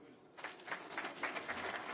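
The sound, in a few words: applause after a speech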